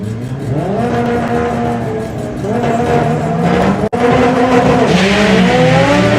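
Drag racing cars, including a 9-second Honda Civic, launch together at a UK drag race, engines roaring and revving loudly, rising in pitch as they accelerate, with a sharp crack partway through and continued high-revving drive.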